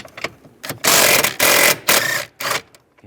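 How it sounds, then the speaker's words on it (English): Ratchet fitted with a 15mm socket working loose bolts on a 2007-2013 Chevrolet Silverado, heard as several close, loud bursts of rapid clicking separated by short pauses. "Now I'm gonna use a 15mm socket."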